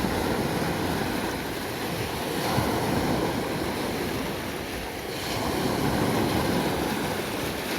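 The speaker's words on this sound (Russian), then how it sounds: "Вот такая вот водичка текет." Sea water washes along Kamenka beach in Yeysk in a continuous rushing surf, swelling and easing, with wind buffeting the microphone.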